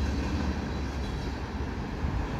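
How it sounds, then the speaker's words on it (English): A CP freight train with three engines rolling across a bridge, a steady close low rumble of rail cars passing with no voices. "And that's the end of the train."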